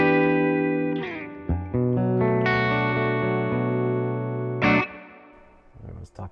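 Clean electric guitar chords through a Tone King Imperial amplifier ring out with a spacious reverb tail, a few strums sustaining and fading into the room, with a short strummed flourish at the end.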